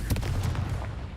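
A Confringo fire spell blast from a wizard video game, a dense booming burst of explosive energy with repeated thumping impacts filling the short moment at steady loudness.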